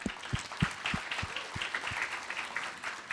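An audience at an indoor finance class event applauds for Bank Mega, a bright crackle of many hands with a few heavier, regular claps thudding underneath, fairly close.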